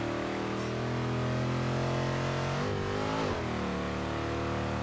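A 1970 Chevelle SS 454 big-block V8 in the racing game Forza Horizon 3 drones steadily while cruising, its engine note dipping and then climbing through a brief rev around a gear change, continuous and fairly loud.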